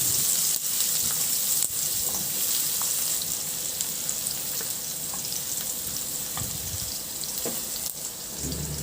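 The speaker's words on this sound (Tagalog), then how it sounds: "Magpainit muna ako ng mantika sa kawali at igisa ko na rin yung bawang." Garlic sautés in hot oil in a pan, giving a constant loud sizzle and crackle with occasional stirring clinks and faint scrapes throughout.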